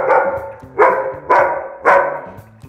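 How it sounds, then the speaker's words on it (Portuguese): Aggressive guard dogs barking close by, four loud, evenly spaced barks roughly half a second apart, with no talking. "A hora que vai beirar ali, ele late, aí o outro late"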